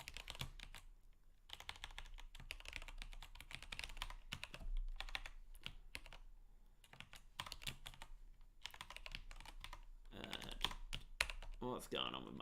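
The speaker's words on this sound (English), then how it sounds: "What's going on with my typing today?" Someone types on a computer keyboard in quick, uneven bursts of soft clicking keystrokes, close and quiet, with short pauses between the runs of typing.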